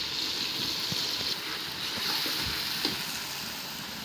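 A paste of ginger, garlic, onion and pepper sizzles in a pan, a steady close frying hiss with occasional soft stirring knocks, no voices over it.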